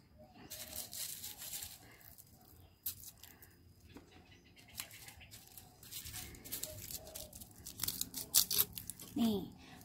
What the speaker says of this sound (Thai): เราจะตัดจุกหัวหอมแบบนี้นะคะ